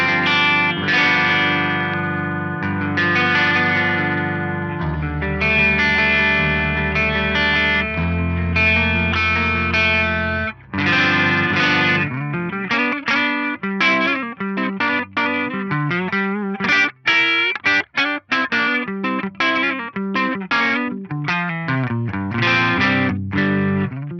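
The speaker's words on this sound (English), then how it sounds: "This is such a beautiful clean amp, this Gibtone Scout." An electric guitar plays through an Axe-Fx III modeled on a Gibtone Scout clean amp, with sustained chords followed by quicker picked, rhythmic phrases, full and clean, with no one talking.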